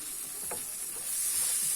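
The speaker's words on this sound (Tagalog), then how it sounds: "itiprito muna natin yung ating ham. Ayan. Mix lang." Ham frying in a pan for carbonara, sizzling with a steady bright hiss while a utensil stirs it through, plus a few soft scrapes close by.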